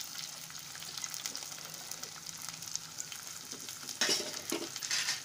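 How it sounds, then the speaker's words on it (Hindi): Gevda (papdi beans) frying with browned onions in a pan: a steady close sizzle with stirring scrapes and a couple of louder spatula bursts toward the end, no voices. "प्याज को हमने इस कंडीशन में फ्राई किया, अब इसमें हम ये डाल के फ्राई करेंगे।"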